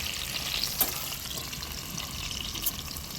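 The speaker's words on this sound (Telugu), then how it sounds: "ఈ చికెన్ ముక్కల్ని అటు ఇటు కలుపుకుంటూ 4 వైపులా మంచిగా గోల్డెన్ బ్రౌన్ కలర్ వచ్చే వరకు ఫ్రై చేసుకోవాలి" Chicken pieces for chilli chicken fry in hot oil, giving a constant crackling sizzle with a couple of sharper spits, close and even across the short stretch, no voices.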